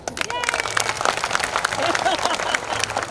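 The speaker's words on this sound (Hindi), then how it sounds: "अब एक बार शैलेश जी को ये बता दीजिए तालियां बजा के कि आप मुझे कितना प्यार करते हैं।" An audience at an evening Diwali fair poetry recital in Udaipur claps, scattered crowd applause mixed with voices talking over it.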